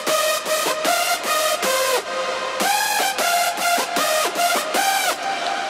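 A bright synth top lead from a hard dance track, drenched in reverb, plays a fast melodic line of rapid repeated notes with audible pitch bends gliding between them, loud and continuous with no voices.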